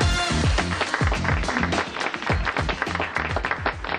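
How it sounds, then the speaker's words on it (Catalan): Audience applause on a Catalan storytelling show, with a steady, fairly close patter of individual hand claps over a backing music bed with a regular beat running throughout. "un aplaudiment"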